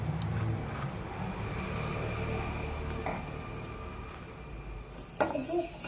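Fenugreek and cumin seeds dry roast in a pan over a low flame, with steady soft scraping and stirring and a few metallic clinks of a spoon against the pan, then a sharper clatter near the end.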